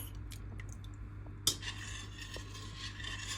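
Warm milk with cheese rennet being stirred in a pot, a soft steady swishing with one sharp utensil clink against the pot partway through, quiet and close.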